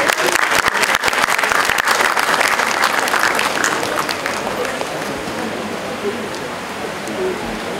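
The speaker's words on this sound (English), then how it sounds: "Please give a huge round of applause." An audience at a mediation center inauguration claps loudly, the dense applause peaking early and then thinning toward the end, with some scattered voices in the crowd.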